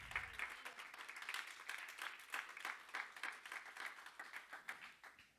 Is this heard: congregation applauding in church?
yes